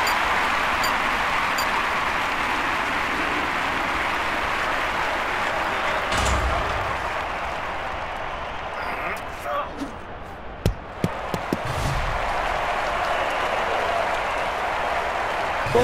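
Stadium crowd at an athletics triple jump event in Jarzynowo applauding and cheering a German jumper's personal best, a broad sustained roar with a few sharp claps and thumps, heard under an announcer's voice.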